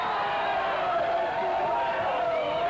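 A dense June 1985 pro wrestling crowd roars in steady, unbroken displeasure at the Sheepherders, a loud wash of many voices with shouts and whoops rising from the mass, no single talker standing out.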